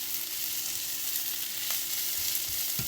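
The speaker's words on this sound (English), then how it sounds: "So let's just stir this until the leaves are wilted." Sweet potato leaves sizzling in a pan over medium heat, a steady bright frying hiss with a few soft stirring scrapes, close and continuous.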